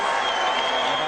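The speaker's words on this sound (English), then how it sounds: "An appreciative audience in the sold-out Copa room in the Sands applauding" A sold-out crowd in the Copa Room at the Sands applauds during a boxing bout, a brief, even wash of steady clapping filling the room.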